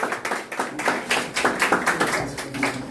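Audience applause for a brass band at the inauguration ceremony of the municipal library in Anse-à-Veau, heard as steady, moderately loud clapping with distinct individual claps throughout.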